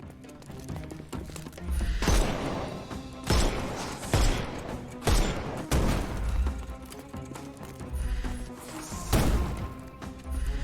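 Shotgun blasts in the Sherlock Holmes Chapter One video game: a run of loud, booming shots at uneven intervals over a busy, noisy game soundscape.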